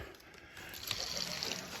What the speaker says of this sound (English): And the water runs down here,